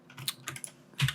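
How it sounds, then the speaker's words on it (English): A few crisp keyboard key clicks tap out irregularly, close by, ending with a slightly heavier keystroke. "press 5 on the keyboard"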